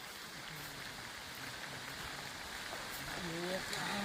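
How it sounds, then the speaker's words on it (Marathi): Heavy rain falls outdoors in a steady, even hiss, with a person speaking beneath it. "हे बघा पाऊस पडायला लागलाय ना"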